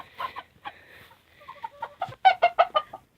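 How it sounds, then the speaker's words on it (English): A rooster calls nearby, a drawn-out crow followed by several loud, clipped cluck-like bursts in quick succession. "That's one of my roosters."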